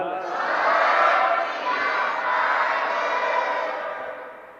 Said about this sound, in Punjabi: ਇੱਕ ਚੜ੍ਹਦੀ ਕਲਾ ਦਾ ਜਕਾਰਾ ਬਖਸ਼ਿਓ ਬੋਲੇ ਸੋ ਨਿਹਾਲ